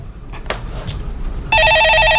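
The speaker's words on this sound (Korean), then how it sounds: "예, 전화 받아보겠습니다." A telephone rings during a Korean stock-market call-in show, its electronic ring bursting in loudly and steadily after a stretch of quiet studio noise and a few soft clicks.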